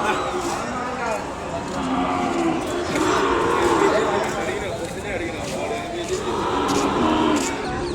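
Ongole bulls at a busy cattle market in Kodada, Telangana, with occasional lowing amid a steady crowd murmur and nearby voices talking throughout.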